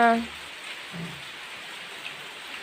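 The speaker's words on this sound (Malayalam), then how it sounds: "അടിപൊളി ഒരു മഴ കഴിഞ്ഞു കഴിഞ്ഞെന്ന് പറയാൻ പറ്റത്തില്ല പെയ്യുന്നുണ്ട്" Village rain keeps falling as a soft, steady hiss in the background after a heavy downpour, with a brief low voice sound at the start.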